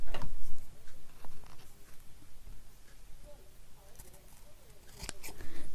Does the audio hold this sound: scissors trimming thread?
yes